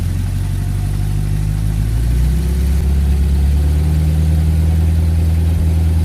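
A classic car with a 6-volt charging system idles in a steady low rumble, then climbs to a slightly higher, sustained rev of about 1,200 RPM and holds it there, close and loud.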